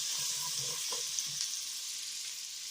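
Sliced red onions sizzle in a hot pan, a steady close hiss of frying with a few soft stirring knocks early on, no voices over it.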